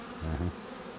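Honey bees buzz briefly and close during a hive inspection, a short low drone that swells and fades within a second.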